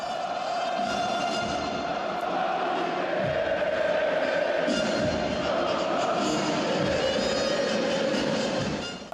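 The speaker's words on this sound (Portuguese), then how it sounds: "Mais de 34 mil pessoas foram ao Beira-Rio. A festa era animada e com muito barulho." A big football crowd of more than 34,000 at the Beira-Rio stadium for Inter against Santos, a steady roar of chanting and cheering that carries on without a break and sounds broad and far off.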